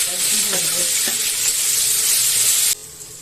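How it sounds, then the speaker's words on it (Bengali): Grated onion, garlic, ginger and tomato paste hit hot oil in a pan for dim aloo, giving a loud, steady broadband sizzle with a few stirring scrapes, then the hiss drops abruptly near the end. "এটা এখন ভেজে দেবো, তেলের উপর দিয়ে দিলাম।"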